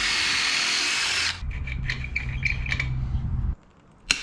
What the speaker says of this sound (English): if we've got a stuck nut, we just get the old 1/2-inch Ugga-Dugga machine out